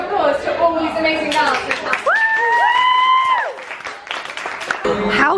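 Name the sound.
audience applause for dancers at an event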